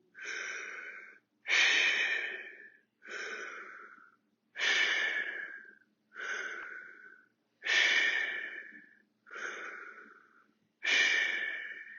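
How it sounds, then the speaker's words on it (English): Slow, deep breaths taken during a seated stretch in a fitness class, eight long inhale-exhale sounds in a steady rhythm, close and clear with short pauses between and no talking. "and back to the deep breathing"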